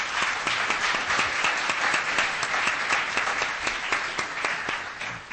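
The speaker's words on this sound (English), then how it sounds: "Please join me, first of all, in a round of applause to encourage and welcome our panelists." Audience applause welcoming panelists at a law and race discussion event, a sustained even round of clapping from a sizeable crowd with distinct individual claps audible throughout.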